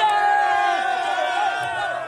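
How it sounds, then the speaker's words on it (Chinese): A crowd at a youth volleyball world championship match in Bulgaria erupts in loud, sustained cheering and whooping that fills the whole moment without letup. "现场传出欢呼声。"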